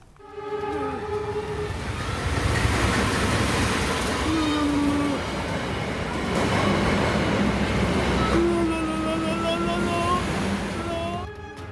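Wijaya Kusuma train from Surabaya to Purwakarta, its locomotive pouring out thick smoke, with a steady rumbling roar of the stopped or slowly moving train, joined by tonal horn-like whines and occasional voices in the background.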